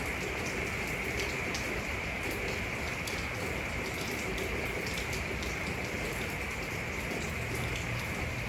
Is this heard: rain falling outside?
yes